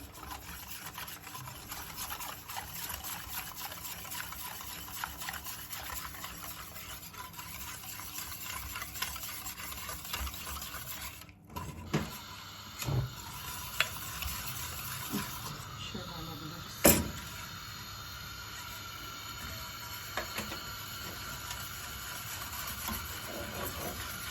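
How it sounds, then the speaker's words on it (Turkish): Egg yolk is whisked into a sugar-based pudding mixture in a pan before heating, giving a steady soft swishing stir with a few sharper clinks in the second half, close and moderately quiet. "Ocağa almadan önce biraz karıştıracağım bu şekilde. Çırpacağım."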